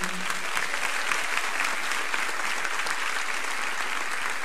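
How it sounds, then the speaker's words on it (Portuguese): A church congregation applauds during an evening worship service, a dense, steady wash of clapping that holds evenly from start to finish with no voices rising above it. "Dá uma salva de palmas para Jesus aí nessa noite"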